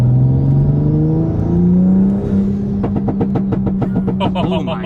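A 2020 Toyota Supra with a big turbo upgrade revs hard under load, its engine note climbing before the exhaust crackles into a rapid string of loud pops and bangs, close and dominant throughout.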